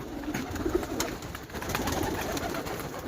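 Pigeons cooing softly in a low, steady murmur over faint background hiss, kept birds in Muhayil, Asir, with no talk over them.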